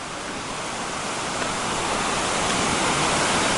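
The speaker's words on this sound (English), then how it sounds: "The river is gorgeous through here. It's getting really big, for sure. The rapids have been pretty cool." River rapids rushing along a trail toward Muir Pass, a loud, dense, continuous roar of churning water that swells slightly in volume as it goes on.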